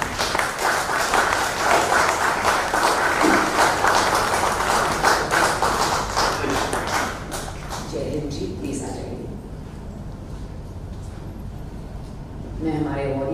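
An award ceremony audience applauds the honorees with sustained, dense clapping from a crowd that fades out midway, and someone speaks over it afterwards.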